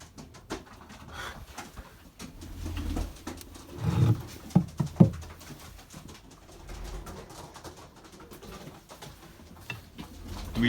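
Pigeons coo in a loft among young birds around 18 days old, low soft calls rising to a few louder bursts midway over a steady muffled background.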